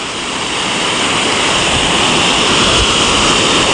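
Rushing floodwater of a risen river at Maguiron Dike after Typhoon Kristine roars loud and unbroken, a dense churning wash of sound that swells slightly and never lets up.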